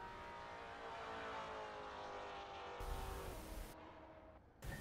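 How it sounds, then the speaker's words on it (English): Maserati racing car in a GT4 sim racing game at Virginia International Raceway, its engine droning steadily with abrupt revving bursts from downshifts near the end, loud and close with no talk. "the Maserati makes quite a good noise"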